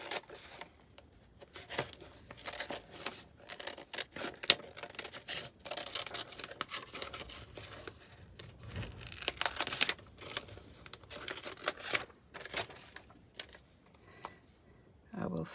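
Small scissors snip out a paper rabbit for a junk journal, producing soft, irregular crisp cuts and paper rustling up close at low volume, with a quiet voice speaking at times.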